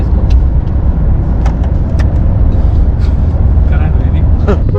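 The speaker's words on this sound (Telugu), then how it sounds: "ట్రాఫిక్ చూడండి, ఫుల్ ట్రాఫిక్." Heavy road traffic on a highway in Andhra Pradesh, with a constant loud roar of engines and passing vehicles and occasional horn-like bursts. Voices are mixed into the din.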